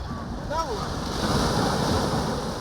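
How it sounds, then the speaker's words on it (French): Ocean waves wash onto a beach during a children's holiday outing, a continuous rushing surf roar with steady wind noise and a faint distant voice or call in the background. "Jeu de course avec les vagues,"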